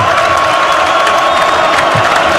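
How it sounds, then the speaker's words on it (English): A packed college basketball arena crowd in an NCAA men's game between Santa Clara and Saint Mary's roars and cheers in a loud, sustained wall of noise with whoops rising above it during free throws. "Crowd is roaring."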